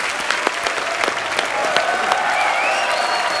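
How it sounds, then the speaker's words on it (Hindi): A studio audience at a Hindi comedy talk show applauds loudly and steadily, a dense, continuous wash of clapping close by that holds for several seconds. "तालियां बजती रहनी चाहिए।"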